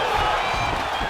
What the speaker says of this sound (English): crowd pops as she reverses position